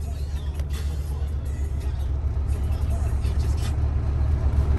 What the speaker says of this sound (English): First, let's crank the truck on.